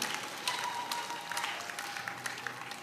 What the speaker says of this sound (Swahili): Please stand up, we'll give them a big clap